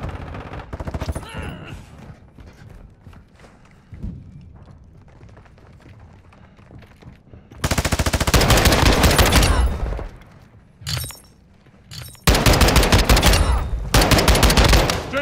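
Sustained machine-gun bursts rattle loudly in Call of Duty: Modern Warfare II, starting with scattered shots and then long dense volleys broken by brief pauses, close and dominant with no talk.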